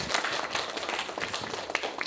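A church congregation claps together during a Sunday worship service, a brief, moderately faint wash of overlapping handclaps with no clear pauses.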